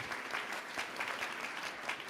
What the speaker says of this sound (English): Big round of applause for all our finalists and for our judges today.